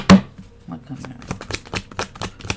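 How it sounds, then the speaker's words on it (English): Tarot cards are shuffled and pulled, a sharp initial slap followed by a quick series of close card flicks and snaps, with a voice speaking briefly alongside. "Let me pull from these cards and see what comes out."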